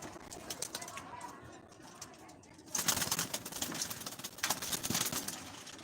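Newly released pigeons give faint coos, then a flurry of wing flapping and rustling follows after a quiet start, heard from a modest distance.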